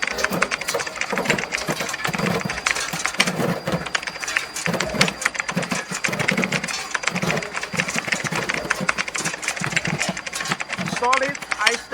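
A power-saving tube ice machine in Laguna, Philippines runs loud and close, with a dense mechanical hum and rattling clatter that carries on without a break.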